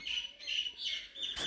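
A bird chirps faintly in a quick series of thin, high tweets, heard alone over low background.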